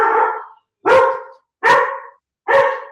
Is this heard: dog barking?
yes